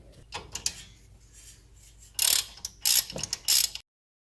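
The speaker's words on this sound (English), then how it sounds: "you're gonna wanna remove these bolts right here first for the caliper" A hand ratchet on brake caliper bolts, heard close as several bursts of sharp rapid clicking separated by softer metallic fiddling and quiet gaps, with no speech.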